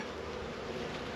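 Honey bees buzzing on a hive frame during spring beekeeping in Michigan, a dense continuous close hum with no other sounds, very brief.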